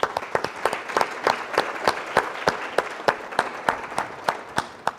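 Applause at an alumni banquet, with a nearby pair of hands clapping in a steady, even rhythm over a softer spread of clapping from the rest of the room.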